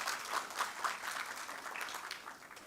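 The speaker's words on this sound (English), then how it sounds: "if we can give them a round of applause as well" Audience at a heritage and culture symposium giving a round of applause, a soft, fairly distant patter of many hands that fades slightly toward the end.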